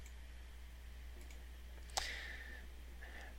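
A single faint mouse click near the middle, sharp and brief against a quiet background hum, followed by a short soft ring.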